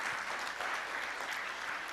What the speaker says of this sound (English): I think we can clap again for the director.